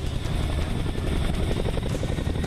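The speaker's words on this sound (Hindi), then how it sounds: "Heavy weight lifter Chinook." An Indian Air Force Chinook heavy-lift helicopter roars steadily at close range at Leh, its dense rotor thump and engine rumble loud and continuous throughout.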